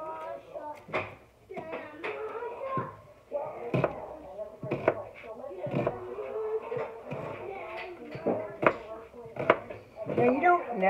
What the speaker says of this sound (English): I'm just going to slice this onion up